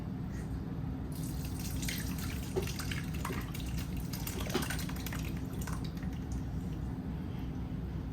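Kefir milk pours into a metal mesh strainer with a quiet continuous trickle and faint splashing, soft and close.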